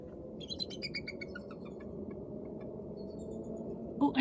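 Bald eagle calling outdoors, a series of faint, high chirping notes repeating quickly over steady background noise, with a louder burst right at the end.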